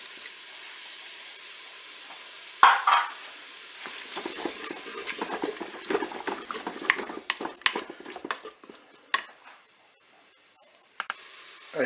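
Chopped onions drop into a Cookeo multicooker on its browning function with a sudden burst of sizzle, then crackling, hissing and the clatter of a spoon stirring the pot, loud and close, fading toward the end.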